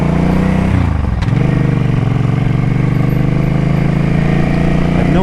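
A Suzuki Boulevard C50T cruiser motorcycle engine runs loud and steady while riding, with a brief dip in revs around a gear change before settling into a constant throbbing drone.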